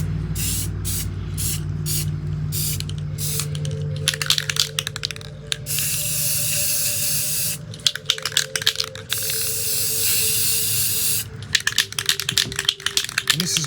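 Spray paint hisses onto a Polar Lights 1:2500 scale U.S.S. Enterprise model kit, laying down a light black coat for light blocking. The spray comes close and loud in repeated short and long bursts.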